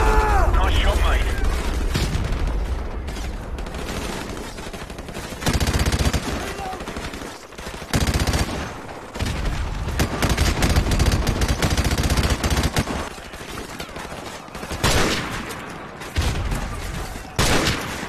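Gunfire in Modern Warfare 1 Remastered, dense machine-gun bursts and booming shots rattling loudly in close succession across the whole stretch, with brief pauses and voices mixed in between volleys.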